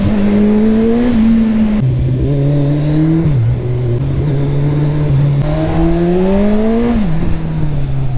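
A powerful motorcycle engine roars loudly and close while riding, its tone rising as it accelerates and dropping sharply at each gear change, with a strong continuous drone throughout.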